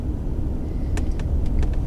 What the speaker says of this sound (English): Several cars.